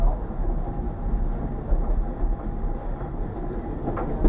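Heritage railway train ride heard from inside the carriage: a steady, loud rumble of wheels and running gear with faint rhythmic clicks on the track, continuous and without talk.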